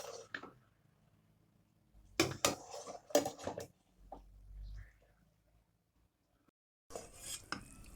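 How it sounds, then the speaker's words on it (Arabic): Chicken pasta ingredients being mixed in a pan make bursts of scraping and clattering utensil strokes, separated by quiet pauses, with a faint low rumble between them. "هنخلط طبعا كل المكونات بتاعتنا بالشكل ده اهو"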